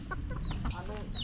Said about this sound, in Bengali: হাঁস মুরগি চলে বেড়াচ্ছে